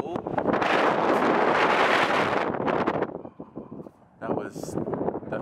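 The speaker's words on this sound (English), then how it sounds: "That was definitely a lot of wind." Strong wind buffets an exposed microphone outdoors at a cold, high viewpoint, a loud continuous roar for about three seconds that drops briefly and then gusts back up.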